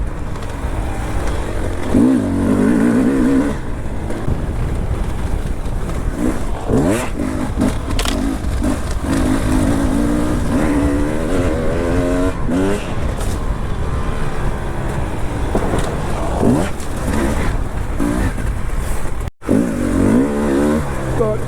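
A Beta 300RR two-stroke dirt bike ridden in laps near Marquette, Michigan, its engine revving and dropping constantly with loud buzzing pulls and wind rush, close to the rider throughout.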